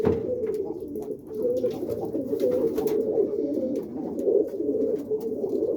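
Roller pigeons coo steadily and close by, a continuous low burbling chorus with soft rustling and faint higher chirps overhead.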